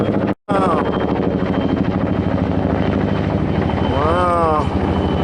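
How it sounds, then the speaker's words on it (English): A big helicopter passes overhead, its loud, steady rotor and engine drone filling the whole stretch, briefly cut out near the start, with a voice exclaiming under the noise. "That looks like I don't know, a big helicopter."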